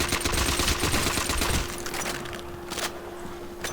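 Rapid automatic gunfire from Call of Duty zombies on the Nacht Der Untoten map, loud and sustained bursts for about a second and a half before tapering into quieter scattered shots and game noise.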